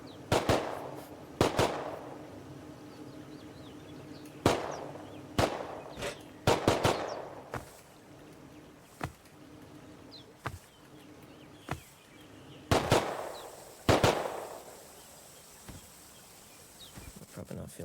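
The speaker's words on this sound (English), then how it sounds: "The scientist is shooting at them." Scattered gunshots from scientists firing in the video game Rust, sharp cracks ringing out one at a time and in quick pairs, some close and loud, others fainter, spread across a long stretch with quiet gaps between.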